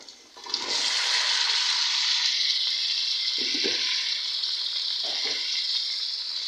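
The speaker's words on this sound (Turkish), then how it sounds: "Şimdi patatesle fasulyeyi ilave edeceğim." Potatoes and green beans tipped into a pot of onions and tomato paste frying for a Turkish green bean dish with meat, bursting into a loud, steady sizzle with a couple of brief stirring knocks.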